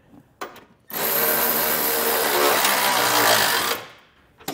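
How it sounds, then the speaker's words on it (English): An impact or power tool snugs factory bolts on a 2018 Ram 2500 front bumper, one steady loud burst of about three seconds set between brief quieter bits, with no talking. "we're gonna first tighten back up our factory bolts there at the very top"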